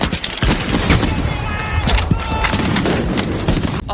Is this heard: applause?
no